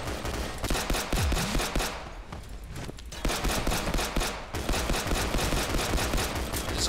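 Rapid, continuous gunfire in the shooter game Double Action, with dense bursts of automatic shots rattling almost without pause for several seconds and a brief lull in the middle, loud and close.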